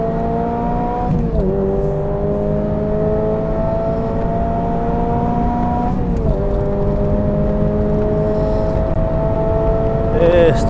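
A supercharged Toyota GR86 fitted with an HKS supercharger accelerates hard on a race circuit, its engine note climbing steadily through long gear pulls with two audible shifts, loud and close with a constant whine.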